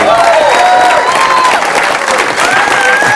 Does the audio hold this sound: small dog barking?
no